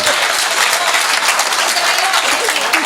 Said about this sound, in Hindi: ताली बजाओ मैडम जी के लिए।